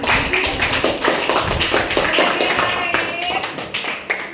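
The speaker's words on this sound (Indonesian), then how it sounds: "Oke, tepuk tangan" Students in a junior high classroom clap for a group, a burst of close, brisk hand claps with some tapping, while voices carry on at the same time.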